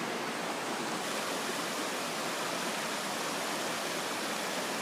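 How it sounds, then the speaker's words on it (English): Water rushes steadily at the source of Trapp Falls in Ashby, Massachusetts, swollen by recent rain, a loud, unbroken broadband roar close by with no voices. "This is the water source of Trapp Falls in Ashby, Mass."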